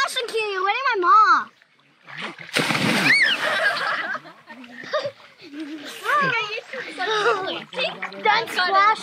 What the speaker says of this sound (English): Don't splash my mom.